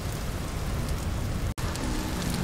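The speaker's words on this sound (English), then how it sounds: "Oh, a light temporal storm already." Steady rain of a light temporal storm in the game Vintage Story, a dense even hiss and patter continuing throughout with one brief dropout near the middle, no talking.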